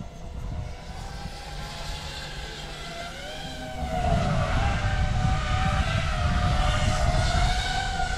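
A 6-inch FPV drone flies overhead with a loud, steady whine and rising motor tones, growing stronger after a few seconds, alone without talk.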